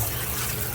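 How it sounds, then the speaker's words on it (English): Cold tap water pouring over cooked lasagna noodles in a colander, a steady loud rush of running water without a break. "I'm using cold water."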